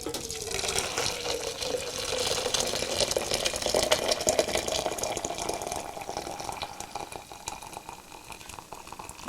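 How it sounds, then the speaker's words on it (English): Hot boiled water pours steadily from a kettle into a sticky sugar-coated vessel during home brewing of a brown sugar lager, a continuous close splashing gush with a faint rising tone as it fills. "of hot or boiled water and pour it into here."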